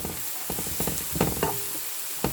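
Cornstarch being stirred into a pot of vegetable soup, with a spoon scraping and clinking in uneven strokes over a soft bubbling simmer, close and fairly quiet.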